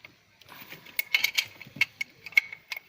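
Tools loosening the rear manifold bolts on an engine, with several small metallic clicks and ratcheting taps in irregular bursts, close and moderately loud against a quiet background.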